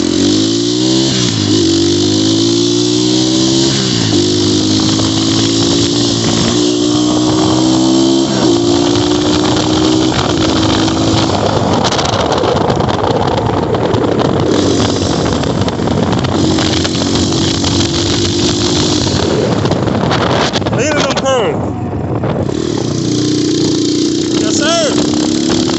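Xmoto 250cc motorcycle ridden on a street, engine revving up through rising pitch sweeps and gear changes, then settling into a steady drone, heard close with heavy wind buffeting and a voice talking over parts of the ride.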